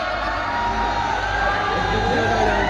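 Comedy-show crowd at the Daringbadi winter festival in Odisha cheering and shouting, a dense, loud, continuous roar of voices and whoops throughout.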